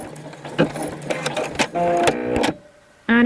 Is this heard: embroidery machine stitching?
yes